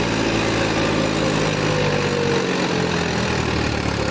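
A Mahindra 295 tractor engine drones loudly and steadily nearby as it pushes a trolley, a continuous low diesel rumble with no talking.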